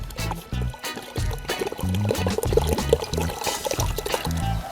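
Vinegar poured from a bottle into a container to mix a homemade weed killer, a loud close gurgling, glugging stream in uneven bursts, no one speaking.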